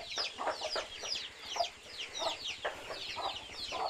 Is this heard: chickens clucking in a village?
yes